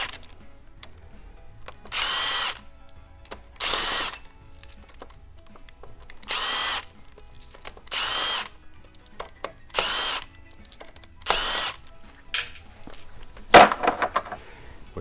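A power drill or impact tool loosens the very tight Torx bolts on the crankshaft of a Mercedes OM606 diesel engine, sounding in seven short, loud bursts of roughly a second each, separated by pauses of quiet shop background.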